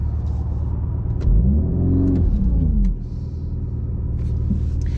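A VW Golf R Mk8 in race mode accelerates with a loud, close engine rumble that rises through the revs, then drops off sharply near the end before settling into a steady idle-like drone.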